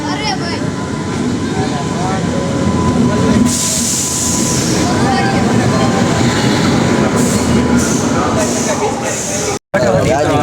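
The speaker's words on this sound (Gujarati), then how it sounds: "હાલો મિત્રો આપણી ટ્રેન આવી ગઈ છે" A passenger train pulling into a station on a trip to Junagadh, loud and near, with a heavy continuous rumble, clatter and faint wheel squeal, while people talk over it and a brief cut interrupts near the end.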